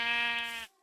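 A single sheep bleat from Minecraft, a short wavering nasal call heard alone, close and clear, ending abruptly.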